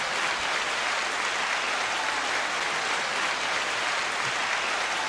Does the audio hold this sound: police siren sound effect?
no